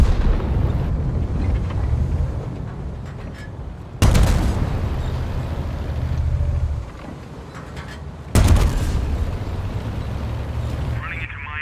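Battleship artillery shells hit the shore in World of Tanks, with two sharp, loud blasts several seconds apart, each followed by deep rumbling, over a steady low roar of battle and a voice talking.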